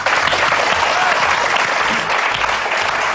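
Steady studio audience applause fills the stretch from start to finish, dense and fairly loud with a constant wash of clapping, on a French comedy television show.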